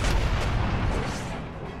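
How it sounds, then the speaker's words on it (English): Artillery barrage pounding a fort wall in the Empire Total War strategy game, a continuous rumbling wash of distant cannon booms with no distinct individual shots, fading slightly toward the end. "you are firing on the fort now, are ya? You should have fired another barrage by now."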